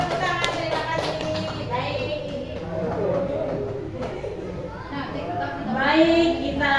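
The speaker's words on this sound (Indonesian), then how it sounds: "Oke, tepuk tangan." Group hand clapping at a teacher training session, steady scattered applause running under continuous talk and chatter, moderate and fairly close.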